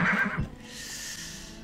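A horse in the Farthest Frontier video game gives one clear whinny at the start, followed by a short low snort and a faint airy wash of ambient game sound trailing away.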